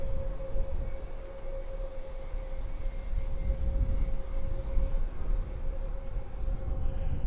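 Steady broadband roar of a Wizz Air A320-200 airliner at London Luton Airport, a continuous engine rumble with a sustained tonal whine running evenly throughout, moderately distant with no voices.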